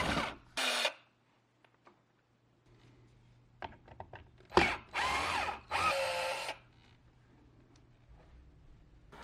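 A power drill with a 1/4-inch socket bit backs out the screws of the old window-shade brackets, giving several short whirring bursts close by with scattered clicks and handling noises between them.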